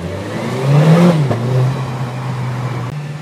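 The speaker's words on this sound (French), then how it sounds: "Elle fait quand même un petit peu plus de bruit cette ligne Acra que la ligne d'origine" Small French sports car, a Trophy model fitted with an Akrapovic exhaust, revving in a tunnel: a loud engine note swells and falls with throttle, then settles into a steady, close idle drone.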